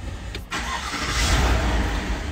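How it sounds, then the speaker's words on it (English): A car engine cranks and catches, then settles into a loud, steady running roar close by, with no one talking. "Okay, so now we have the engine running."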